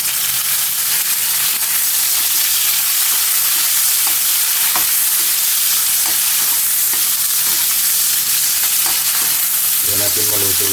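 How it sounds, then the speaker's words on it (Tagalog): Tomatoes sautéing with ginger in a pan for a fish soup, a steady close sizzle with scattered scraping stirs, and a louder burst of frying near the end as fresh ingredients hit the oil. "lagay na natin yung kamatis natin."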